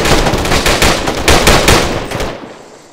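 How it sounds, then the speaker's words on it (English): Automatic gunfire in the ArmA 3 video game, a rapid loud burst of many overlapping shots over about two seconds that then cuts off abruptly. "like 18 people were fucking shooting at him"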